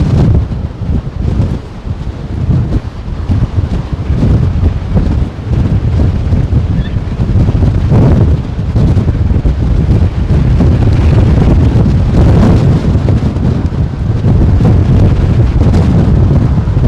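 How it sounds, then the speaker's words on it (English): Strong gusting wind at London Heathrow Airport blasts across the microphone in a loud, continuous low roar that surges and buffets throughout. "Winds are gusting 40, but they are headwinds 270."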